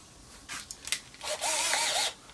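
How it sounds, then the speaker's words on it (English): A cordless-style power drill briefly whirs during a dryer heating element repair, with short bursts and a rising whine over about half a second near the end, fairly close and alone. "Got a drill here."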